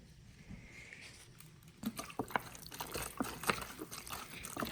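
Water poured into a worm compost bin with bedding, starting after a quiet moment as a close, splashy trickle with irregular drips and patters that grow busier toward the end.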